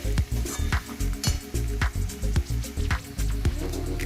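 Spiced potato filling for batata vada stirred in a pan, with repeated scraping, squishing strokes and a light sizzle at a steady rhythm, close and fairly loud with no talking.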